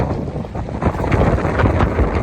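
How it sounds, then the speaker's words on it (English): Strong, freezing wind buffets an outdoor spot, roaring loudly and steadily across the microphone in a thick, continuous gusty rumble without pause. "I'm standing in some pretty extreme wind right now"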